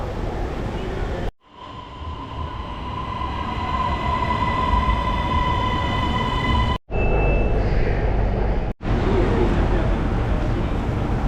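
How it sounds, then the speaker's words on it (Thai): A Bangkok MRT metro train hums steadily with tonal motor whine, cut by brief dropouts, then continues rumbling loudly; faint voices are mixed in. "รอรถไฟสายสีเงินมานครับ"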